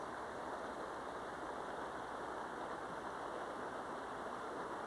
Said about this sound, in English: this little creek that's running